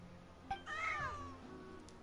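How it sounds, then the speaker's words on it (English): A game cat lets out a single drawn-out, rising and falling meow lasting nearly a second, close and clear after a soft click, over quiet low background hum. "They're kitty cats! Leave the kitty cats alone!"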